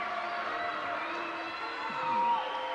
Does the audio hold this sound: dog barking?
no